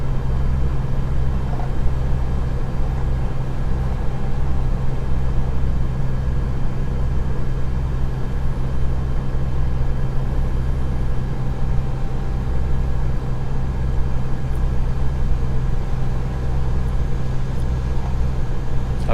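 A Peterbilt 579 truck cruising in American Truck Simulator, a loud steady low engine drone with constant road rumble, unbroken and even for the whole stretch.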